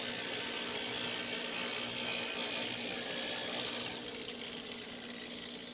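A woodturning tool held against a spinning grinding wheel, giving a steady close, harsh grinding rasp that runs without pause and eases slightly near the end, no talking.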